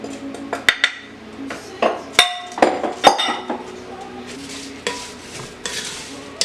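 Butter with brown sugar, salt, cinnamon and nutmeg stirred in a pan, with sharp metallic clinks and scrapes of a utensil against the pan in an uneven rhythm, close up, with no clear talking.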